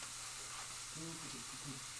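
Spaghetti bolognese ingredients fry in a pan, giving a steady quiet sizzle with faint bubbling crackles near the end and no voices.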